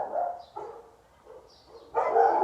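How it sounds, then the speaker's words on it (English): A neighbour's dog barks a few times in the background, with short, muffled barks at moderate distance, and no speech over them. "the neighbour's dog's barking, I do apologise"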